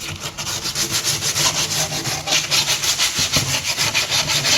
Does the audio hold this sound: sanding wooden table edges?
yes